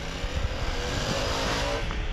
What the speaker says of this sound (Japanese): ちなみにここでグワッていう加速をやってみると